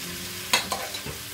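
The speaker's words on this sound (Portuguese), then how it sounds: "Agora vou deixar a cebola murchar um pouquinho" Onion sizzling as it sautés in a pan with a couple of brief stirring scrapes, steady frying hiss close by.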